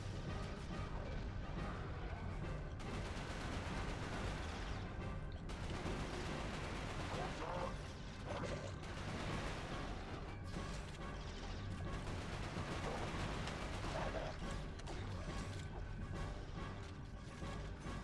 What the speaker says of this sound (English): Ow, ow, stop shooting me.